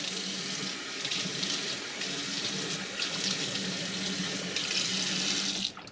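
Water runs steadily from a sink tap while skin care product is rinsed off a face, a close, continuous splashing rush that cuts off abruptly near the end.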